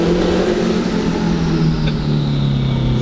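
Big-turbo Honda S2000 engine pulling hard under acceleration, a loud continuous drone that climbs steadily in pitch over three seconds, heard close from inside the car with no talking.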